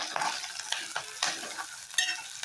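Cabbage curry with curry leaves being stirred in a pan, a spoon scraping in repeated strokes over a soft sizzle of frying, close and clear with no talking.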